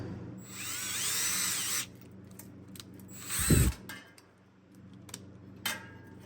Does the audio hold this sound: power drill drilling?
yes